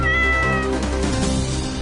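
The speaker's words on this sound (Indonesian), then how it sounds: "kucing." A cat meows loudly and close, a drawn-out tonal cry followed by a softer, wavering second call.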